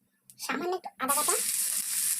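Ginger paste hits a hot pan for chow mein and sizzles loudly and steadily, a bright hiss that takes over after a brief burst of speech at the start.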